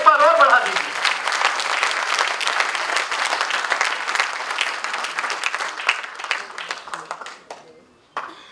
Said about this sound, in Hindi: ये तालियां कम है, एक बार और बढ़ा दीजिए।